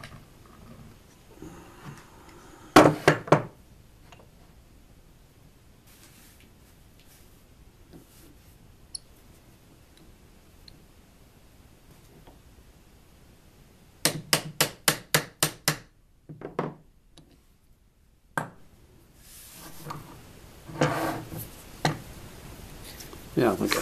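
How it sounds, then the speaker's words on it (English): A mini lathe part tapped against a vise in a workshop, loud metallic knocks: a single hit, then a rapid run of about six taps later, with someone talking in between. "tap it a little harder."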